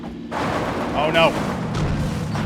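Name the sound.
Kar 98 rifle shot in PUBG video game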